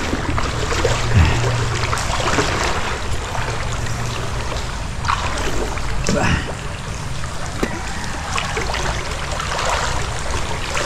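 A strong river current rushes steadily, a broad, close wash of churning water with occasional splashes and faint voices in the background.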